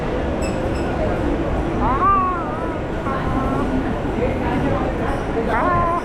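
Steady rumbling of a moving train in India, with constant broadband rolling noise throughout while excited voices talk over it, near and fairly loud.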